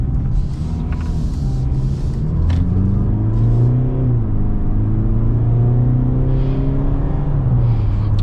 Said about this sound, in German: das Auto zieht wirklich sehr, sehr gut durch